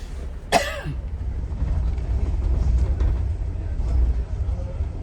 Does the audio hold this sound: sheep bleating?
no